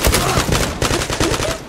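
Rapid gunfire in the first-person shooter game Zula, played as a snowball-fight match, comes as dense, loud bursts of shots that run throughout with little pause, and faint voice traces sit beneath it.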